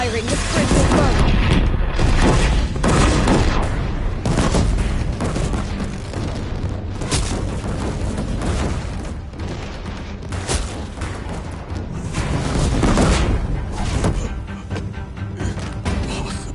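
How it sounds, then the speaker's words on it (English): Heavy Deathbringer machine guns fire on the bridge at Meridian in Horizon Zero Dawn Remastered, a dense loud barrage of booms and crashing impacts that runs without a break under battle noise. "If the Deathbringers keep firing, this bridge will burn."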